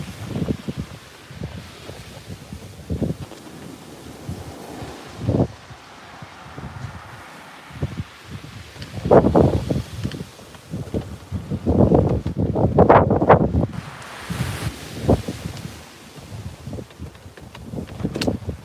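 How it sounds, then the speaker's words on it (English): Strong wind gusts on the coast during a fishing session, rising and falling in loud rumbling bursts with rustling, louder swells in the second half. "That wind's kicking right off."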